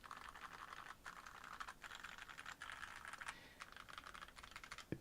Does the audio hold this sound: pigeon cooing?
no